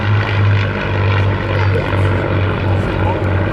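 Spitfire Mark 19 with a 36.7 litre Rolls-Royce Griffin engine at an airshow, a steady loud propeller-engine drone with a pulsing low hum, under crowd and commentary noise.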